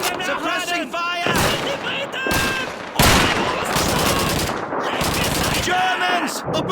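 Rapid machine gun suppressing fire in a World War-style shooter game, loud bursts of automatic gunfire in several volleys with short gaps, close and harsh, with shouted voices mixed in.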